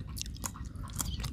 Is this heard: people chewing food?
yes